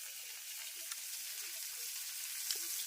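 Food sizzling on a hot tava griddle in a village home kitchen, a faint, steady frying hiss with a few small crackles and pops, close by and free of talk.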